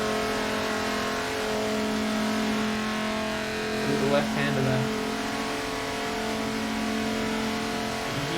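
An Audi TT race car in a 24 Hours of Nurburgring racing video game: a steady engine drone with a brief surge of revs as it engine-brakes into a braking zone, under a commentator's voice.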